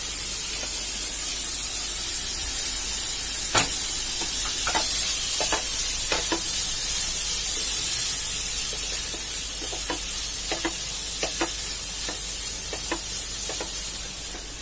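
Corn kernels sizzle in a hot pan with a steady, loud hiss, broken by sharp crackling pops scattered across the stretch.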